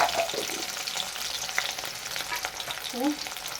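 Green chilies frying in fish oil in a pan, with panch phoron spices, give a steady hiss and crackle throughout, with a few louder pops and spatters near the end.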